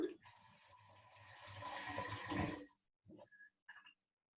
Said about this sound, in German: Machst du einfach wieder Wasser drauf, so ein paar Finger breit oberhalb der Sprossen.